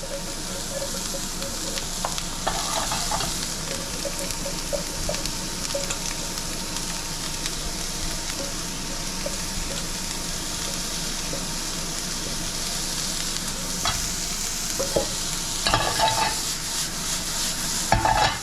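Vegetables for a paneer sandwich frying and being stirred in a pan, giving a loud, continuous sizzle with scraping stirs and a few sharper pops near the end.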